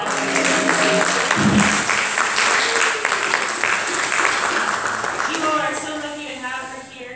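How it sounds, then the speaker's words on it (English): Applause rises for a pastor at a jazz church service, a steady wash of clapping with voices and tonal sounds mixed in, gradually thinning toward the end. "Let's give a round of applause to Pastor Mary Dallas"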